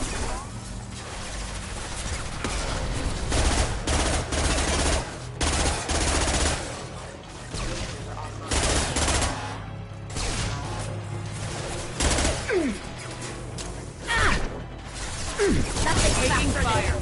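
Sustained bursts of automatic gunfire from a Mass Effect firefight crackle continuously with sharp impacts and mechanical clatter, loud and dense throughout, with occasional voice chatter mixed underneath.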